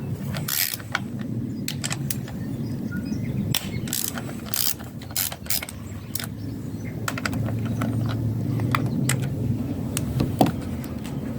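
A hand ratchet fitted with an E11 socket clicks in short bursts while loosening valve cover bolts on a Mercedes C55, the sharp ticks close and repeated over a low mechanical background.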